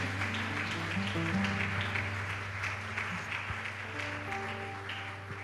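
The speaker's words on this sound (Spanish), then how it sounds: "Y le damos un nuevo aplauso al Señor." A church congregation claps together in a sustained round of applause, moderately loud and even, with held keyboard or organ tones sounding softly underneath.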